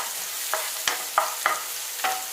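Chopped onion and green chili fry in a pan for egg noodles, a soft steady sizzle broken by several sharp scrapes of a spatula stirring, close by with no talk.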